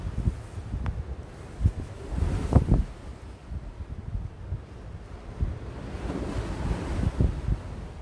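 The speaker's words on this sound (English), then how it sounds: "The waves, because there's some big waves out there." Big ocean waves break and wash against the shore with steady wind buffeting the microphone, a continuous rumbling surge with irregular louder crashes.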